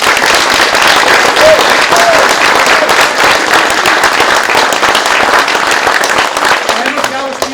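Loud, dense applause from an audience at a Frisian-Dutch theatre performance, a steady wash of many hands clapping close by, with a few voices and whoops breaking through near the end.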